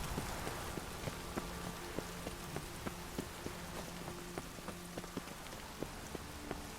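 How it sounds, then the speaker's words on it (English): Steady rain patters down in the video game The Witcher 3 in a soft, continuous hiss, with scattered sharper drops ticking throughout and a faint low tone humming underneath. "The rain will cleanse the city's streets of filth."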